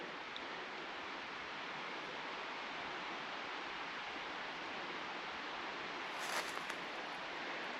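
Water falling beside a hiking trail, a steady broadband rushing wash heard from a moderate distance, continuous and unbroken, no talk.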